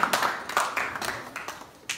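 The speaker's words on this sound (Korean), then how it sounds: "우리 다시 한번 박수로 우리 돌아가는 길을 우리 축복하도록 하겠습니다" Scattered clapping from a church middle-school youth group at a Sunday worship service, several uneven bursts of hand claps rather than sustained applause, fairly close.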